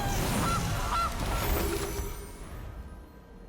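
A goose honk sound effect from a Goose card in the MTG Arena digital card game: a couple of short nasal honks near the start over a dense, noisy game background that fades toward the end.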